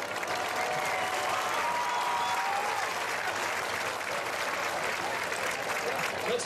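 A large crowd at a high school football game claps and cheers for scholar athlete award winners, continuous applause holding steady, with scattered shouts and voices within it.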